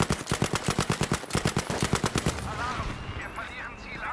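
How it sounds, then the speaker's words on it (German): Battlefield 5 gameplay: a steady, rapid rhythm of loud, heavy shots for about two seconds, then rumbling blasts and debris, with a voice talking in between. "Artillerie."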